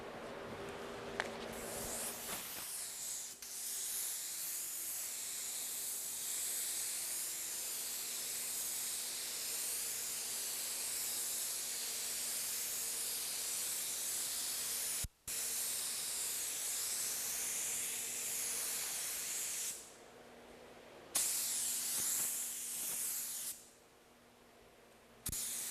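A spray gun lays down a blue automotive base coat on a repaired dent panel, producing a strong, continuous airy hiss that carries through with short pauses near the end between passes.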